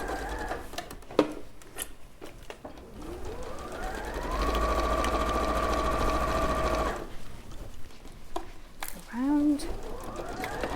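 A domestic sewing machine runs in a steady stitching burst, loud and close, with a rising whir as it speeds up, set among chatter and background talk at a sewing class.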